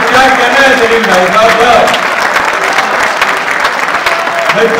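An audience claps at a poetry recital, dense sustained applause filling the whole stretch while a voice talks over the top.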